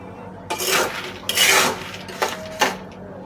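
Nuts poured and stirred in hot sand in a pan on a stove give bursts of gritty scraping and rattling, several separate rough swishes with quiet pauses between, close by.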